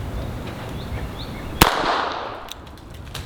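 A single sharp .22 LR rimfire shot cracks out once, mid-clip, from a Colt King Cobra 6-inch revolver or S&W AR15-22 fired at a bowling ball, and a short ringing tail trails off after it.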